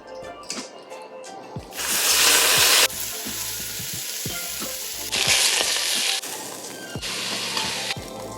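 Beef sizzles and fries in olive oil in a hot pan for a beef bourguignon red wine stew, with loud bursts of frying when meat goes in, steady crackling throughout and occasional stirring scrapes.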